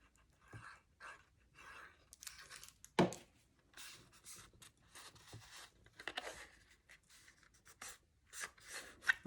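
Bone folder pressed and rubbed over glued paper pieces in a craft project, giving faint, close scraping and brushing strokes in uneven bursts with a single sharper tap, in a quiet room with no talk.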